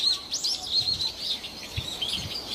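Small birds chirping and tweeting outdoors, several quick high calls and short trills scattered through the clip, moderately near, with faint low background rumble and no talking.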